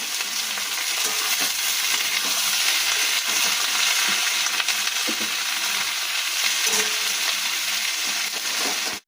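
Ivy gourd (kunduri) fries in a wok with a steady, close, continuous sizzle, lasting several seconds at an even level before cutting off abruptly.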